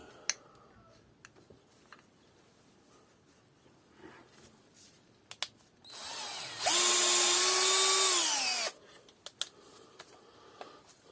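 A power drill with a 3mm bit spins up and runs steadily for about two seconds with a loud high whine, drilling a Vauxhall Opel 1.9 CDTI metal inlet manifold, preceded by scattered small clicks and taps.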